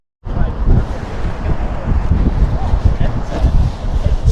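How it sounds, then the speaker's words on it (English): Strong wind buffeting the microphone on the beach esplanade at Prestwick, a loud continuous low rumble and gusting roar starting abruptly and holding steady throughout, with no clear talk. "that's us down on the esplanade at Prestwick. It's windy."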